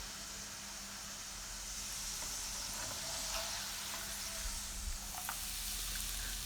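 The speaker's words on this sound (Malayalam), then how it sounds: "അപ്പോൾ ഞാനിതാ പൊരിച്ചെടുക്കുകയാണ്." Corn kernels frying in hot oil in a home kitchen, a steady broadband sizzle that holds close and even throughout, with faint crackles and pops rising toward the end.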